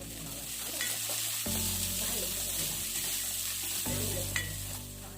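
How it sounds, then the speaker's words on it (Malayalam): Chopped onions sautéing in a pan for fish molly, a soft continuous sizzle with stirring scrapes, fairly quiet, with a low background hum shifting partway through. "നമ്മളിനി ഇതിലേക്ക് ഉള്ളി അരിഞ്ഞതും കൂടി ചേർക്കുകയാണ്. എന്നിട്ട് ഒന്ന് ചെറുതായിട്ടിങ്ങനെ താളിച്ചെടുക്കണം."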